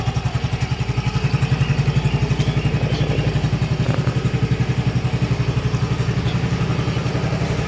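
A Yamaha Fazzio Hybrid non-keyless scooter engine idles close by with a smooth, steady, low, pulsing thrum that holds even throughout, alone.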